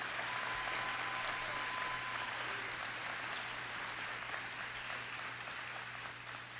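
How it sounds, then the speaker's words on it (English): A room of people at a Florida governor's announcement applauds two honorees, with sustained clapping heard somewhat distant and faint over a steady low electrical hum, slowly easing off toward the end. "Let's give a round of applause for these two right here"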